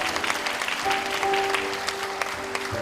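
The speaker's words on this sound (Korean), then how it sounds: "여러분 계속해서 뜨거운 박수 부탁드리겠습니다" Warm applause fills the hall at a National Assembly member's constituency report meeting in Seo-gu, Incheon, a steady crowd clapping with a faint sustained tone running underneath.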